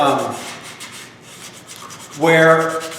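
A guitar body is scuffed with 220 grit sandpaper over the area where glue was wiped off, making two short close rubbing strokes separated by a brief pause.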